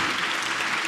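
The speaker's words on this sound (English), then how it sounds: "Ladies and gentlemen, let's clap for the entire panel." An audience at an annual media convention applauds a panel, giving a dense, even burst of many hands clapping at once that lasts about a second with no voices.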